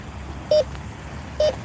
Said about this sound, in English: You can hear a beep.